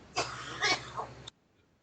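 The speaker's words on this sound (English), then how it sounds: "is coughing up a lung in there" A single harsh cough, slightly distant and muffled, breaking into a few rough bursts before cutting off abruptly.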